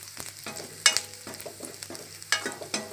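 Garlic and a dried red chili fry in hot oil in a small kadai, a crackling sizzle broken by sharp scraping stirs and spatula clanks, close and fairly loud, with no talking.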